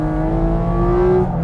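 A 2023 Porsche 718 Cayman GT4 RS with nearly 500 horsepower holds a steady, loud engine rev under power oversteer, a sustained near howl with a smooth whir throughout and no talk.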